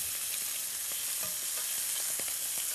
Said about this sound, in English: And I love sizzle.